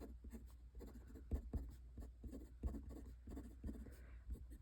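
Close, faint scratching of a Lamy Studio fountain pen with a fine nib on paper, with short strokes and small taps in an irregular steady rhythm.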